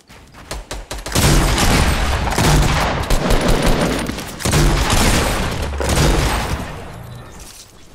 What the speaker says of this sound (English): Get some double shotgun action.